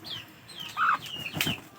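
Laying hens cluck in a few short, close calls over a quiet background, with a faint rustle between them.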